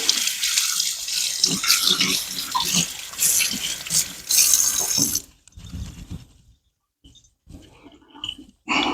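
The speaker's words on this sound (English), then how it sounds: "I'm gonna rinse my hands off real quick." Hands are rinsed under a running kitchen tap during brisket prep. Water gushes loudly and close for about five seconds, then shuts off, leaving quieter splashes and drips.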